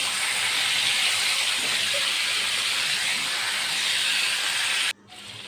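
Aair fish frying slowly in a pan gives a steady, loud, broadband hiss of oil that holds evenly for about five seconds, then drops off abruptly to a quieter sizzle.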